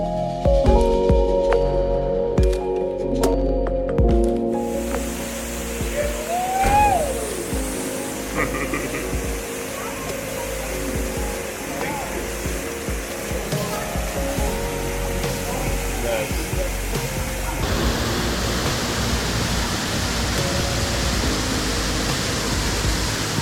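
Steady roar of an approximately 15-foot waterfall in Grenada, a broad rushing hiss that fills the scene throughout, with faint other sounds over it.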